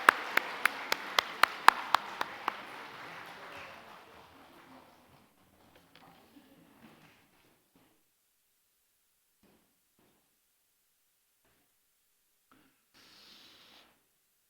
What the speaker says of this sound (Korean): 인사하고 들어가실 때에 크게 박수 주시기 바랍니다.